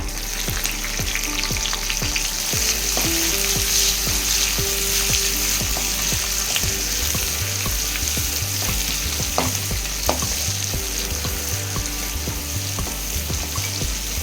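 Sliced big onions fry with spices in a pan, a loud, dense sizzle that runs throughout, with crackles and a rhythmic series of spatula scrapes and taps close by, no voices.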